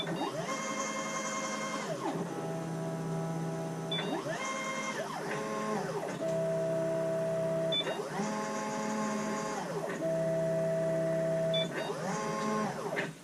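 A CNC mill's probe routine moves to touch the edges of a workpiece, producing steady whining motor tones that rise and fall in repeated sweeps, with faint clicks as contact is made.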